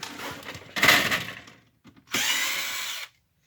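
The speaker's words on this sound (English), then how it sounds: "We're going to continue removing the screws." A power screwdriver removes screws from an HP Officejet 8710 inkjet printer being taken apart, with two close whirring bursts separated by short pauses and a faint click.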